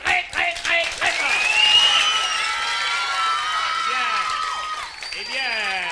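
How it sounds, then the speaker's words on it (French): Applause and cheering break out from a live audience at a 1983 comedy stage show with games, dances and songs, clapping mixed with whoops and children's shouts while a voice talks over the crowd. "je vous demande de l'applaudir très fort"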